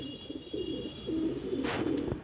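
Pigeons cooing in a Ferozepur pigeon-keeping loft, a few soft low coos close by against a faint steady hum.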